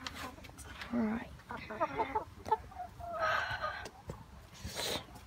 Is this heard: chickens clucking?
yes